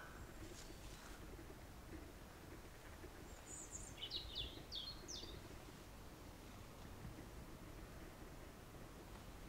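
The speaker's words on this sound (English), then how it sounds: "What you can hear are the birds and the trees." A few faint, high bird chirps in a short cluster over steady outdoor background noise at an abandoned church in the UK, with no voices.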